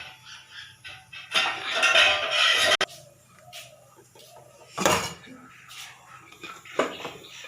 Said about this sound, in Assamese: মই এখন কটাৰী লৈ চাওঁচোন